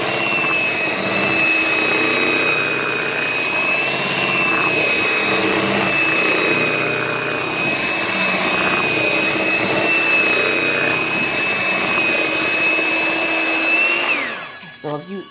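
Electric hand mixer whirring steadily as sour cream is beaten into pineapple upside-down cake batter, a constant high motor whine held for several seconds before it winds down and stops near the end.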